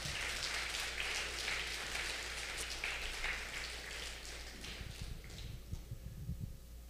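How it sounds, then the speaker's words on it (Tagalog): A church congregation claps together in a sustained round of applause during a worship service that gradually thins and fades toward the end, with a low hum underneath. "Bigyan po natin ng isang mainit na palakpak ang Panginoon."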